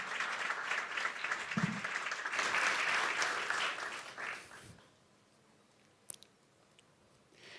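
Audience applause greeting a host taking the stage at a tech pilot showcase, a dense steady patter of many hands for several seconds that fades out, leaving a quiet room with a couple of faint clicks.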